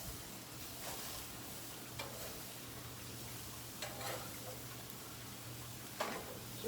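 Food sizzling on a grill in a cooking class demo just after being flipped, a soft, steady hiss with a few faint clicks and taps from utensils.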